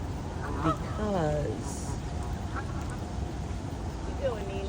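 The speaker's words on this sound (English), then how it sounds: "There's babies over there, baby ducks." Ducks near a group of ducklings let out a few nasal quacks, with a rising and falling run early on and another call near the end. A person talks quietly over the steady outdoor background.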